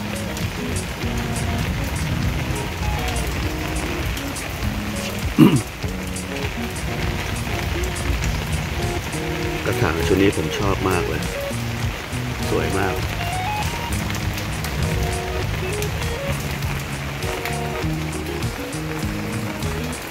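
Steady rain falling on surfaces around a garden of potted desert rose plants, a continuous hiss of drops under someone talking throughout.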